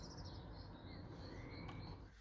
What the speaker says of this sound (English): it's a nice day, and the birds are singing